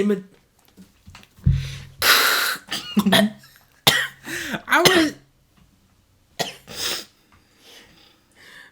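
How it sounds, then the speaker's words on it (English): A person coughs in several harsh bursts, separated by pauses and breaths, close and loud, with a few throat-clearing sounds among them. "I coughed on my own saliva."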